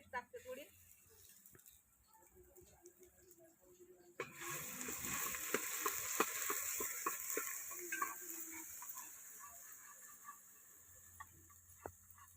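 Garlic paste dropped into hot oil for a tempering over a home wood-fired stove, with a quiet stretch giving way to a steady loud sizzle and crackle, scattered stirring clicks, and talk.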